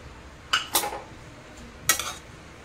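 A pan sits on a low gas flame for dry-roasting grated coconut, with a few distinct metallic scrapes and clinks from a utensil against it over a quiet background.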